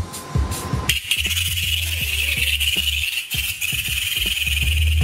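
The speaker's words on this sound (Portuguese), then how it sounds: "Este é o som que os gafanhotos Logcorn fazem quando se sentem ameaçados." A lubber grasshopper threatened and producing a defensive sound: a steady, loud hiss or buzz runs continuously from about one second in, with sharp clicks and rustles scattered through it.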